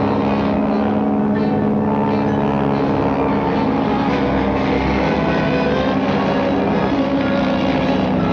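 Police propeller plane flying over the New Mexico desert in the 1954 film Them!, a loud steady droning engine hum that holds constant throughout with no talk.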